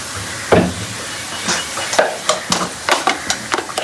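A spoon stirs a mixture of chili sauce, vinegar, soy sauce and black pepper in a bowl, making a series of irregular clinks and scrapes, close and fairly loud, with no talking.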